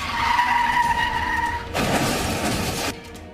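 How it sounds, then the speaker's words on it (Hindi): Rishabh Pant's car, speeding on a road while travelling home from Delhi, skids with a sustained tire screech, then a loud, broad crashing burst as it slams into the road divider; close and harsh, with no voices. "रफ्तार से आती कार और डिवाइडर से टकराई"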